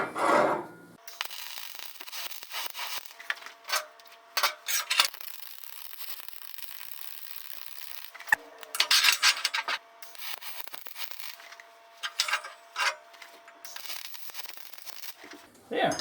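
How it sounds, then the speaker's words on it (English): Welding on a dirt bike E-track wheel chock build, with intermittent bursts of crackling and sizzling arc noise separated by short pauses, close and fairly loud. "let's weld her up."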